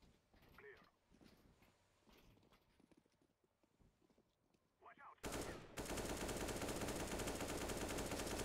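Rapid automatic gunfire in a fast-paced shooter video game erupts loud and sustained after a few seconds of quieter game sounds and faint voices.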